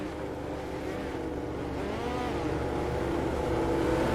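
USAC midget race cars in the iRacing video game at Fairbury Speedway, a steady droning engine roar with rising and falling whine that holds loud throughout, with no voices.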